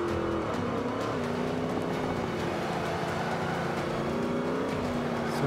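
Forza Motorsport 5 race car engine drones steadily with a wavering pitch as the rear end slides out, continuous and fairly loud throughout, alone without talk.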